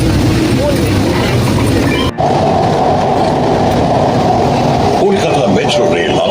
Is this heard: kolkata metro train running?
yes